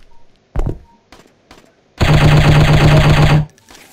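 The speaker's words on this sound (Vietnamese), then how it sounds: "Có tiếng súng." Gunfire in the shooter game Striker: a couple of isolated sharp shots ring out, then a loud sustained burst of rapid automatic fire lasting about a second and a half, close and alone with no talking.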